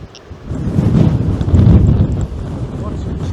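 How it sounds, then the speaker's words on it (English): Strong wind buffets the microphone outdoors, a loud, continuous low rumble that swells and gusts throughout with no other clear sounds. "It's very, very windy."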